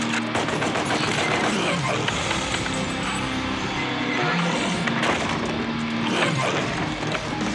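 The Ebony and Ivory pistols in DmC: Devil May Cry (2013) fire rapid bursts of shots with sharp impacts, mixed with game noise while a voice talks over them.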